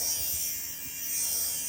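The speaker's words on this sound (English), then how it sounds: "these professional shavers bring clothes back to life" A professional-grade fabric shaver buzzes steadily across a sweater, a continuous close electric whir with faint low thumps as it passes over the knit.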